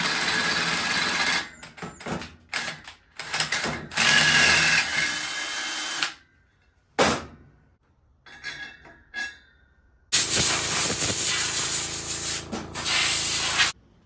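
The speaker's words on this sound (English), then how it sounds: "I'm going back in with this larger drill bit." A power drill with an 11/32-inch bit whines through a metal CRF110 rear rim in several loud bursts separated by pauses, bit grinding harshly, with a final long sustained drilling run.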